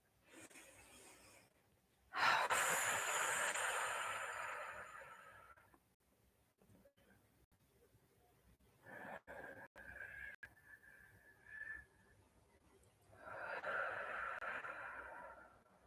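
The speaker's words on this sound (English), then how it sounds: "Sit and just take a few deep breaths, focus on your breathing" Deep, slow meditation breathing sounds close and soft: a long airy inhale, then quieter exhales, a couple of shorter breaths and another long drawn breath, all faint with no talking.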